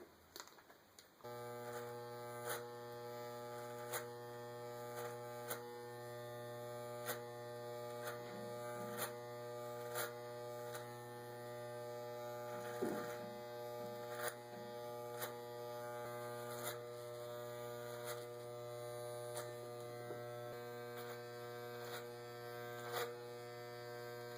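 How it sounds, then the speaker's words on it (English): An electric hair clipper with a 2 guard buzzes steadily with a constant hum through a haircut, a close, continuous drone with faint periodic ticks and no talking. "Now you're going with the 2 guard with the clipper blades flat."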